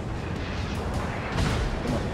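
Naval guns booming from warships in World of Warships, a continuous rumbling barrage of heavy low blasts with no gaps, loud and dense throughout.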